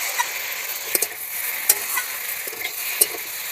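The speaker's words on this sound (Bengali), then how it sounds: "দিয়ে দেবো ভেজে রাখা উচ্ছেগুলো।" Already-fried bitter gourd pieces are stirred in a hot frying pan, giving a continuous sizzle with a few sharp scrapes and clacks of the spatula at irregular moments.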